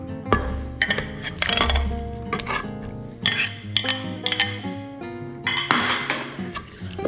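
Food scraped and spooned back into a pot of French onion pot roast, with repeated sharp metallic clinks of a utensil against cookware and dishes, close and irregular, with brief scraping between the strikes.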